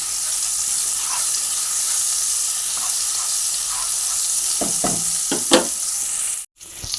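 A potato and cauliflower curry being stirred in a pan after salt goes in, with a steady loud sizzle and hiss, then several scraping spatula strokes toward the end before a brief drop-out.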